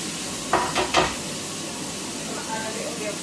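Green beans and spring onion hitting a hot stir-fry pan, with a few quick scraping stirs up front and then a soft, steady sizzle that continues at low volume.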